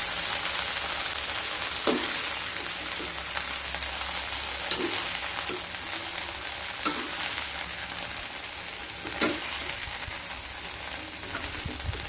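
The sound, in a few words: okra and onion frying in a pan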